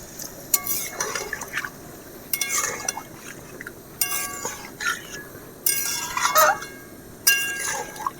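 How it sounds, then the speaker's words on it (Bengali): Water is poured from a vessel into a jackfruit and potato curry in a pot, coming in several separate splashing pours with clinks of metal or glass between them. "এবারে আমি জল দিয়ে দেব।"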